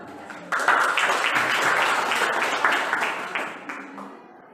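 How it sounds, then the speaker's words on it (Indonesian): A classroom of students claps their hands in a loud, dense burst of applause that starts abruptly, holds steady, then tapers off toward the end. "Betul sekali, tepuk tangan."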